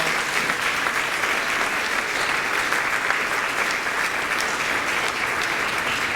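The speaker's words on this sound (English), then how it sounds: "Let's give the kids another round of applause." A church congregation at a Christmas service applauds the children, a dense, steady wash of many hands clapping loudly and evenly without pause.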